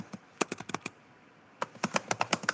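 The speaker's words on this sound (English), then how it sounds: "I'm just typing something in." Typing on a computer keyboard, close and fairly quiet, two bursts of sharp key clicks in irregular rhythm separated by a short pause.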